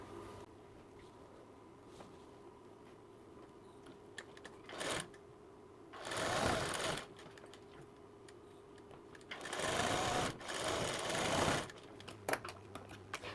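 A sewing machine stitches the shoulder seam of a blouse in three short, quiet runs: a brief whir, then two longer bursts separated by pauses with faint clicks.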